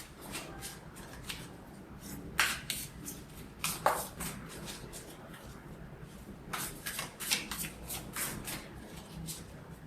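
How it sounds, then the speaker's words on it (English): A deck of oracle cards being shuffled by hand, close and fairly quiet, with bursts of riffling and slapping card noise repeated several times over a soft background. "Give it a nice shuffle now."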